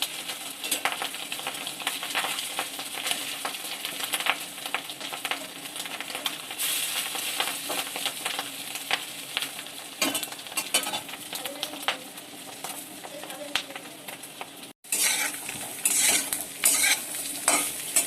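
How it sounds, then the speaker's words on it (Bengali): Fish roe fritters (bora) frying in a pan, a dense continuous sizzle punctuated by frequent scraping and clinking of a spatula as they are turned, close and loud with no speech. "দেখো এইভাবে উল্টে দিয়ে বড়াটা ভেজে নিতে হবে"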